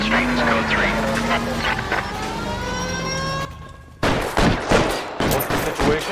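Gunfire in the video game L.A. Noire, a burst of rapid shots after a tonal engine or siren sweep, loud and close with mixed game sounds and voices underneath.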